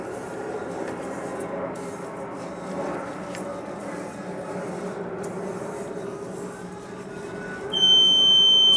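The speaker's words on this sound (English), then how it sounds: "that's my smoke alarm going off" A kitchen smoke alarm sounds while tuna with sesame seeds is being seared, its shrill steady tone cutting in loudly near the end over a constant rough background of cooking noise.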